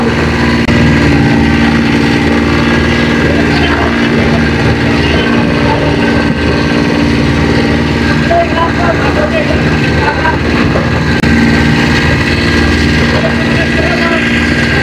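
A steady, loud engine drone runs throughout with a constant low hum and rattling overtones, like a boat motor running nearby.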